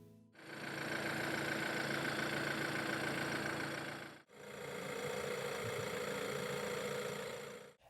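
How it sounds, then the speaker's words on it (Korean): A Renault QM6 1.7 dCi diesel engine starts and idles. The steady mid-pitched diesel clatter runs for about four seconds, breaks briefly, then picks up again for another smooth idle run. It is close and even, with no voices. "그럼 이 엔진들이 어떤 음색을 들려주는지 볼까요?"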